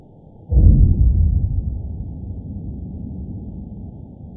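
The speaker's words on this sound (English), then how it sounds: "that sound was caught on a hydrophone and it is coming from an underwater oil rig" Deep underwater boom from an oil rig captured by a hydrophone, a single sudden muffled low thud that swells and then slowly fades into a dull rumbling hiss.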